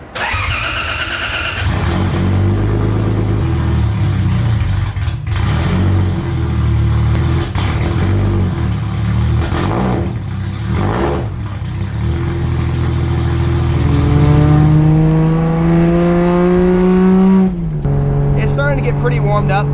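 A turbocharged 1985 car cranks over and fires up, then idles roughly before the engine is revved, with rising pitch sweeps near the end; someone talks over the engine throughout.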